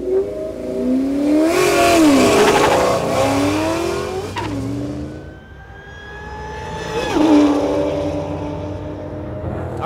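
A 2003 Cobra Mustang with a Stage 2 Bama Performance tune launches down a drag strip, its engine revving hard and rising in pitch through the gears, fading with distance and then surging again. No one speaks.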